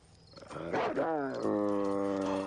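A big dog barks and snarls in a 1987 crime comedy film scene, a loud, close, harmonic roar-like bark that swells and holds for about two seconds alone.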